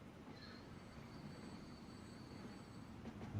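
A tram rolls along in the Transport Fever game, passing a hilly golf course: a steady, even rumble of rail wheels with faint squealing tones, continuous and moderately loud, with no voices.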